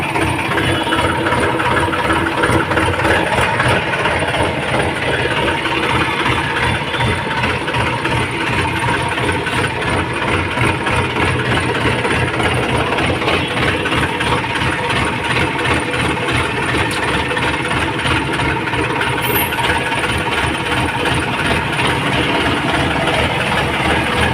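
A farm tractor's engine runs loud and steady as it pulls away, a continuous rumbling drone with a mechanical rattle throughout and no voices.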